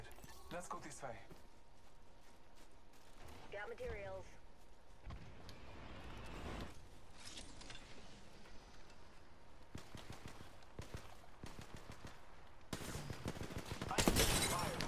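Sniper rifle fire in a first-person shooter video game, with several sharp cracking shots scattered through the span and a dense burst near the end, heard alongside other game sounds and people talking.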